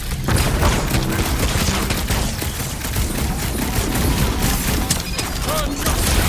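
Dense weapon fire in a Marvel's Guardians of the Galaxy fight, a loud continuous barrage of shots and blasts with voices shouting amid the din.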